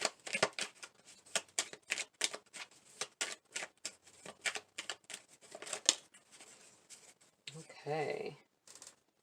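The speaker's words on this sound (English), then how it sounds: "let me pull a few message cards for you" Message cards being shuffled for a tarot-style reading, a fast run of crisp papery riffles and flicks with a short dense burst near the end.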